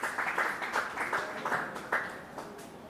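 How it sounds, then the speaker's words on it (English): Audience applause at a panel event on AI and post-quantum cryptography, a fairly quiet patter of clapping with distinct rhythmic claps over about three seconds. "please give a big round of applause for Oliver as well."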